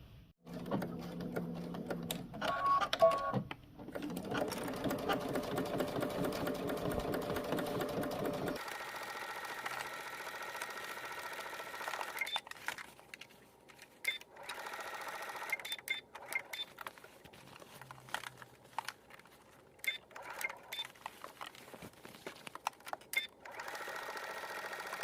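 Home sewing machine stitching a narrow hem on cargo pants, a loud steady motor whir running in bursts of several seconds, then quieter intermittent stitching with pauses and small handling clicks, no talking.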